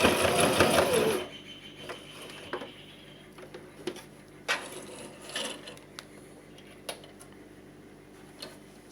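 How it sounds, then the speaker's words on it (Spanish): A sewing machine runs in a loud fast burst stitching a seam on a zippered side pocket, then stops abruptly, leaving faint clicks and small handling taps in a quiet room. "Ya terminamos nuestra costura."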